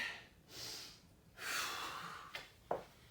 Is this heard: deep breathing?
yes